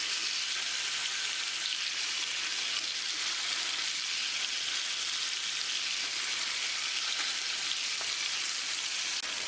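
Chicken pieces for Alfaham mandi frying on high flame, pressed under a heavy stone: a dense, steady sizzle and crackle of hot oil throughout with no talking.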